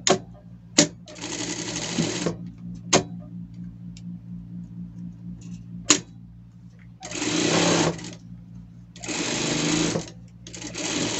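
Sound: sewing machine stitching a safety seam

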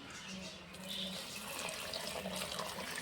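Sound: hot water being poured into pot

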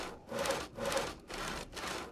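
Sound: sawing logs in Project Zomboid video game

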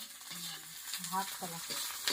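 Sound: pond snails frying in a pan

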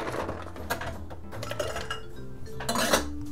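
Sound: ice cubes added to a cocktail and stirred

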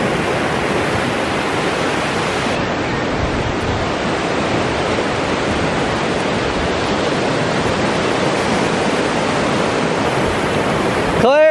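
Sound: ocean waves on the beach

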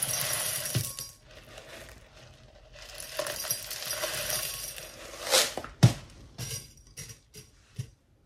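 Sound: clay pebbles poured into bottom of plant pot

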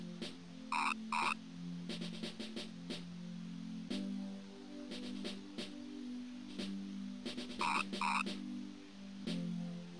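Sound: frog croaking in Mother 3 video game

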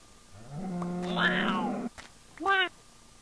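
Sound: cat meowing in the video game Minecraft (Neko's Cat Mod)

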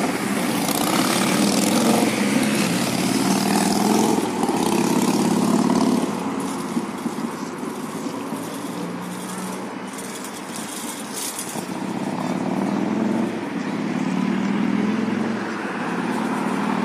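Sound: construction site machinery in north Moscow

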